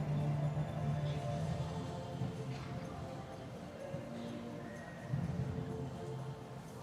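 A horse performing piaffe in a Grand Prix dressage arena, with soft hoofbeats and a whinny under a broad, steady crowd and arena murmur, the steps faint and distant.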